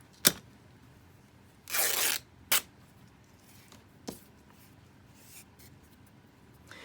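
Scissors snipping a thin strip of fabric for a bow: a few short, sharp cuts and one longer rasping slice, close and fairly quiet, with pauses between them.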